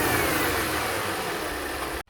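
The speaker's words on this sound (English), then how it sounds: "So there's the first rev of the newly installed intake." A supercharged 2016 Audi A7 Quattro fitted with a CTS Turbo intake revs once, a loud, close engine roar that holds for about two seconds and cuts off abruptly.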